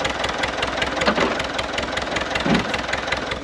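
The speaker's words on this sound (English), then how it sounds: "Diesel engine very easy to start" A diesel tractor engine idles close by, putting out a steady low knocking chug with an even rhythm. No one talks over it during this short stretch.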